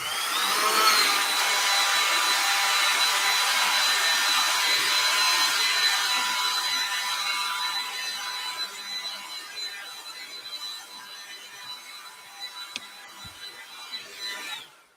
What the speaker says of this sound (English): this is your 1980s hair dryer alert.